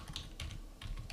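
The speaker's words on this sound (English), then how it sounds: "I'm typing sys out, control space" Quick bursts of keystrokes on a computer keyboard, a few clustered clicks then a pause and another flurry, close and fairly quiet with no talking.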